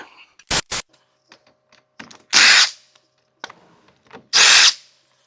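Power tool with a Torx bit loosening a small bolt on a Peugeot 208 front brake disc, heard as short loud bursts of whirring separated by quiet gaps and faint clicks, close up.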